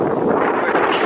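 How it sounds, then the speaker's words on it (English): Wind gusting across an outdoor neighborhood tennis court, a loud, continuous rushing buffet close to the microphone with no talk over it. "It's windy out here."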